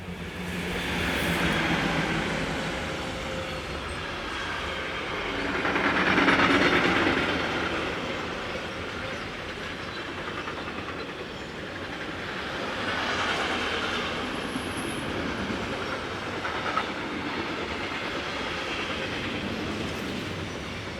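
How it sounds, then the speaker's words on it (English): A Class 440 electric multiple unit, number 306, pulls away northbound on a line near Würzburg in Germany, with a continuous rolling rumble and faint wheel clatter over about twenty seconds and no voices. "Class 440 electric unit number 306 resumes its northbound journey"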